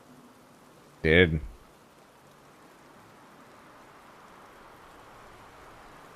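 Steady soft rain hiss in Divinity: Original Sin 2, a faint even wash running throughout, with one brief spoken word near the start.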